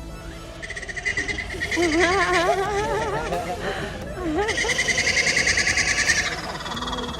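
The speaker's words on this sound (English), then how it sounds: "But being a laughing kookaburra, I'm hoping he has a bit of a chuckle for everyone." A laughing kookaburra at a wildlife safari park gives a rising, wavering chuckling call in two bursts over a rhythmic insect-like background, with a voice briefly heard.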